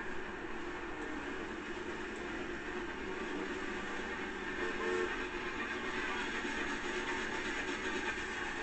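A train rumbles steadily in the racing game Forza Horizon 2, a continuous mid-distance mechanical drone with slight swells and no speech.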